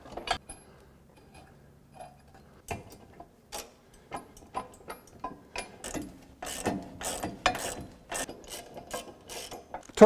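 Ratchet driving tie-down bolts into a Kubota frame, a run of crisp clicking bursts that quicken and cluster toward the end, close and fairly loud with short pauses between strokes.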